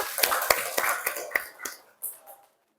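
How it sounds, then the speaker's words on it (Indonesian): A classroom of students claps hands together, a quick series of sharp, fairly faint claps in a steady rhythm that fades out after about two seconds. "tepuk tangan buat kita semua"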